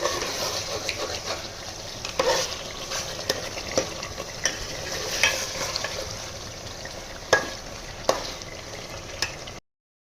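Mutton with cashews stir-fried over a high flame for mutton korma, a continuous sizzle broken by repeated scraping strokes of the spoon, close and fairly loud.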